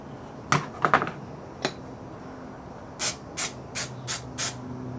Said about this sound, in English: This glue doesn't like to be sprayed too close.